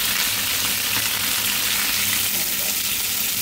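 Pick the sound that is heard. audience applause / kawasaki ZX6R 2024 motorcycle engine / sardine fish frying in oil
sardine fish frying in oil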